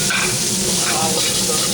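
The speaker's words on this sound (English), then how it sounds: "Now we stir fry." Carrot and mixed vegetables stir-frying for Kung Pao chicken, a steady loud sizzle with scraping stir strokes, close and continuous with no pause.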